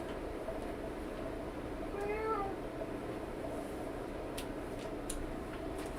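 A house cat gives a single short meow partway through, moderately near over a steady background hum, with no other clear sounds around it.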